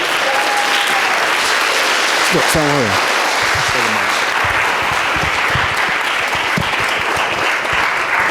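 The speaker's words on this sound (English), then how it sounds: "Give him a round of applause" A crowd gives a sustained round of applause at a birthday fundraiser martial arts demonstration, dense continuous clapping with someone briefly talking over it.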